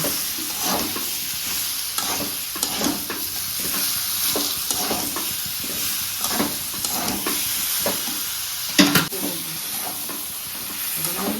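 Pre-fried vegetables sautéed and stirred in a pan for a Bengali bori and vegetable dish, giving a steady hiss of frying under a regular rhythm of spatula scrapes and knocks, close and fairly loud, with a sharper clatter near the end.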